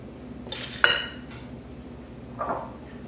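Tuna casserole being served into a bowl: a metal spoon clinks sharply against the dish twice in quick succession, then a softer scrape follows a moment later, close and clear over a quiet kitchen hum.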